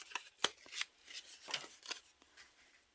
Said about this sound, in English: I'm just going to rip this